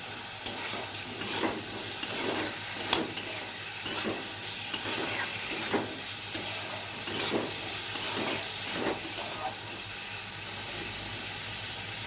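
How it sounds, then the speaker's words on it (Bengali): Brinjal and okra fry with spices in a pan, a steady sizzle running throughout while a spatula scrapes and stirs in an even repeating rhythm close by. "ভালো করে মশলার সাথে বেগুন আর ভেন্ডিটাকে কষিয়ে নিয়ে"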